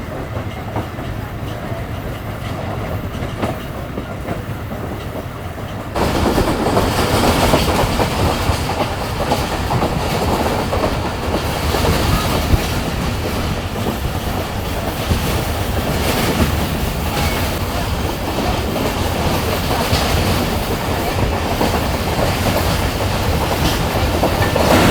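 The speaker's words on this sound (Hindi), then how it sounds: "और ये जी हमारी पीछे की कराची एक्सप्रेस, पूरी कराची एक्सप्रेस आप इस वक्त देख सकते हैं" Coaches of the Karachi Express roll along the track with a sustained loud rumble and rhythmic clickety-clack, heard close from on board, swelling noticeably after the first few seconds and continuing unbroken.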